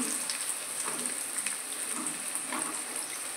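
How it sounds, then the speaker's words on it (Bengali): Soft, steady sizzling of bitter gourd frying in oil and ghee, a low continuous crackle with faint stirring, fairly quiet throughout. "এইভাবে তেল ঘিয়ের সাথে উচ্ছেটা ভাজা হচ্ছে"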